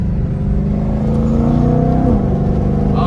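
A sports car engine revs hard under acceleration, its droning tone climbing steadily before dropping sharply at a gear shift, loud and close from inside the car.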